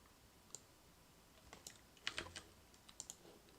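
Typing on a computer keyboard: scattered quiet key clicks come in short irregular bursts, alone against a faint room background.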